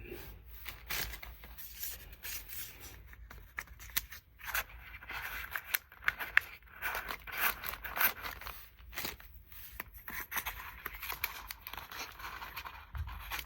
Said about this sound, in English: we're gonna put some more shims in there, pieces of paper.